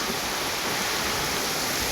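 Broad, steady hiss of surf rolling onto a seashore on a stormy morning as a typhoon nears the Panay Islands in Western Visayas, an unbroken wash of water noise at moderate level with no clear individual wave breaks and no voices.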